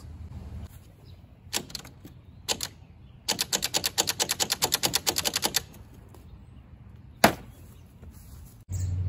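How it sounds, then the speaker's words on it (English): Vento Triton R4 motorcycle with a locked-up engine, its starter clattering in rapid mechanical bursts, one long rattling run of clicks between short isolated clunks; close, with no talking. "That is the sound of a locked up motor."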